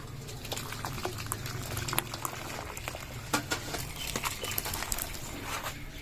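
Water drains out of boiled ash gourd (petha) as it is strained, making a continuous bubbling, pattering liquid sound with scattered small splashes and drips, close and steady throughout.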